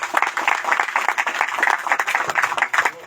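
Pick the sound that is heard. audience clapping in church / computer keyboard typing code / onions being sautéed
audience clapping in church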